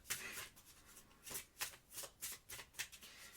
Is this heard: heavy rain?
no